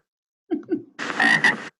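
A frog croak, two short low croaks followed by a longer rasping, buzzy croak, close and loud against silence.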